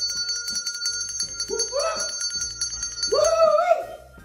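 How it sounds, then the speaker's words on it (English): A small handbell rings in a couple of bright bursts, close and fairly loud, while people talk and exclaim around it. "Everybody needs this bell."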